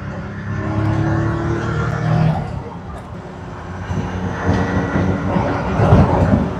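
Jaguar XJ220 hypercar accelerating hard on an open road, a loud rising engine roar heard from inside the car with tire and wind rumble, swelling toward the end.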